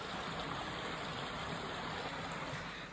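Flowing stream of water near a road in winter in Voss, Norway, a steady broadband rushing and gurgling that continues evenly without pause, close and constant, with no voices.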